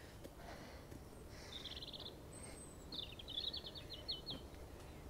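Several birds, including a robin, chirp and trill in short bursts over a steady outdoor rumble by the River Wyre estuary, fairly faint and at a distance.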